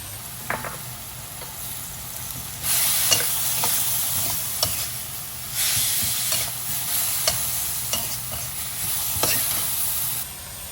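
Holy basil pork is stir-fried in a wok. A spatula scrapes and clacks repeatedly and rhythmically over a loud, steady sizzle that swells in bursts throughout.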